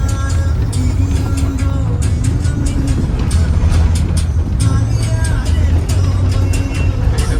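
A bus travels along a road in Kerala, its steady engine rumble and road noise continuous throughout, with faint music playing and occasional clicks from inside the cabin.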